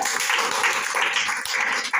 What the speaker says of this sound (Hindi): चलिए 16 जोरदार ताली लगाइए।